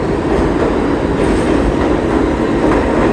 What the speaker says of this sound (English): And here we have a local train to Brooklyn